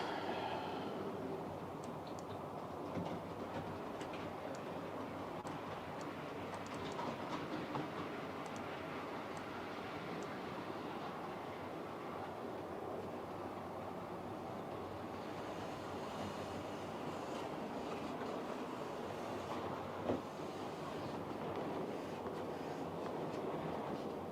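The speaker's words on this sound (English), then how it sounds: "let's put the Flying Scotsman running" A Flying Scotsman model train runs along its track as a continuous, fairly faint rolling rumble with a steady hum, heard alone without talk.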